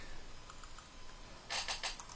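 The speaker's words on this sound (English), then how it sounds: "I'm going to bring over a browser, and I'm going to start typing" Computer keyboard typing at a desk: a few faint keystrokes early on, then a quicker, louder burst of clicking clustered near the end, alone with no talk.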